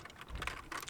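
Typing on a computer keyboard at close range, a quick run of key clicks with no talking.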